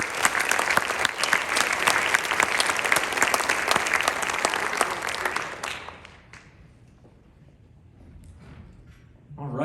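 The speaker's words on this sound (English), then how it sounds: "So another round of applause for them" A concert audience at a wind ensemble performance gives a round of dense, sustained applause for five students, which fades out after about six seconds into a quiet room.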